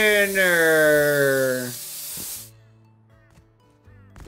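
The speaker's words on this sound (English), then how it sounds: "I'm gonna spray paint a whole message on this base." Spray paint hissing from a can in the video game Rust as a message is sprayed onto a base, a loud steady hiss for under two seconds that cuts off, followed by quieter game sounds.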